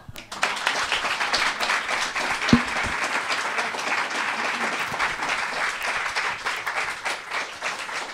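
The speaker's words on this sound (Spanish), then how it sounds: "por favor brindadme un aplauso como los del Congreso" A pub audience at a science talk in Madrid breaks into sustained applause, full and even clapping from a crowd that stays loud throughout, with no talking over it.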